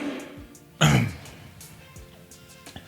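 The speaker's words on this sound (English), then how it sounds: "make sure I don't cough again" A single loud throat clearing or cough close to the microphone, amid low room noise, with faint background sounds.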